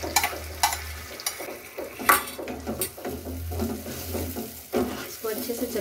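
A spoon scrapes and stirs through soya chunk gravy with yogurt in a pan, with clinks of utensil on metal and a light sizzle beneath, heard up close while a voice talks over it.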